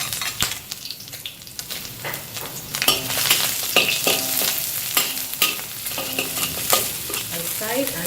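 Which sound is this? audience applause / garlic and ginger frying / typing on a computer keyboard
garlic and ginger frying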